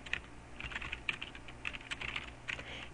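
Fingers tap on a computer keyboard in irregular clusters of quick, light clicks, close and quiet with no talk.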